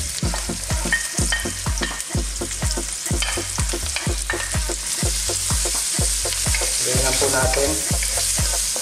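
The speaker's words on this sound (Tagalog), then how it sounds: "So ngayon po sabay-sabay na yung ating iba't ibang kulay na peppers. Kasama na rin yung spring onion." Colored bell peppers and spring onion stir-fry for sweet and sour chicken, a loud continuous sizzle punctuated by rhythmic scraping strokes of a spatula against the pan, with a brief voice over it near the end.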